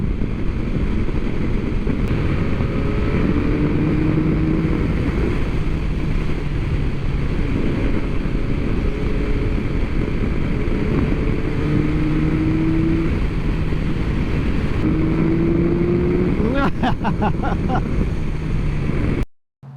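Yamaha MT-09 SP motorcycle ridden hard along a twisty road, its engine note rising and falling through repeated gear changes under constant loud wind rush, with a brief burst of rattling near the end.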